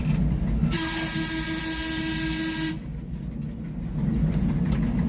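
A train horn blares loudly for about two seconds over the steady rumble of a train passing a level crossing at Byron Bay, New South Wales, then the rolling rail noise continues alone.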